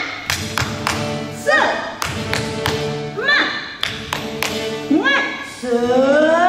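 A Sunday school group at HKBP Bandung Barat doing a rhythmic spirit clap, sharp hand claps in a quick repeated pattern mixed with voices chanting along between and over the beats.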